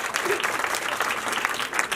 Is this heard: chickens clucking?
no